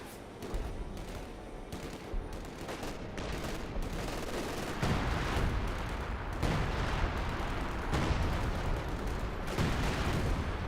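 Artillery siege barrage in the real-time strategy game Company of Heroes 2: rapid bursts of gunfire and heavy booming impacts repeat throughout, dense and continuous like a battle soundscape, at a moderate level.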